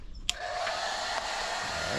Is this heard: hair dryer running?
yes